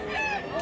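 A one-year-old rooster in Mantalongon, Barili, Cebu gives a brief nasal crowing call with wavering pitch, under a second long and moderately near.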